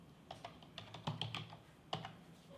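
Light clicks of a computer keyboard as a command is typed, a short irregular burst of keystrokes with brief pauses between them, close and quiet.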